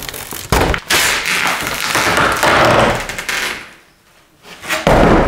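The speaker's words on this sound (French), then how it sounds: "Alors on va arracher cette porte." Interior door being wrenched off with a crowbar while partition walls are torn out in a home renovation: loud, close cracks, thuds and splintering bangs in quick bursts, with a short lull before a final heavy impact.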